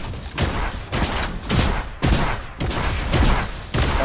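Loud rapid gunfire in a video game aimed at a mech, coming in repeated bursts separated by brief pauses, close and forceful throughout.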